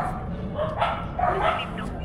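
Several dogs bark in short bursts at a moderate distance, with indistinct human voices and background noise mixed in.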